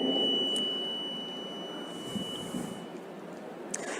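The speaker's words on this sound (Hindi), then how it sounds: "5 सेकंड की बीप की आवाज़ यहाँ पर सुनाई देगी" An electronic voting machine's printer unit emits a steady high beep as its paper slip is cut and drops, a thin continuous tone of about a second over quiet room noise.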